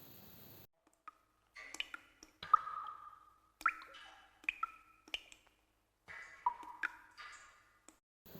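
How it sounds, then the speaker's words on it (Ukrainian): Water drips one drop at a time into a quiet space, producing sparse, irregular plinks and pings with short ringing tails, some close together and others spaced seconds apart, heard alone. "Звук капання води."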